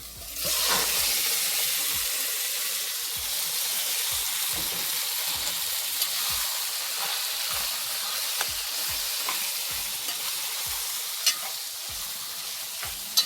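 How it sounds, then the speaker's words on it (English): Kidney dropped into a hot pot with garlic sizzles steadily and loudly, a constant frying hiss close by, punctuated by soft spoon stirs and a few small pops. "So we're going to be adding our kidney into the pot."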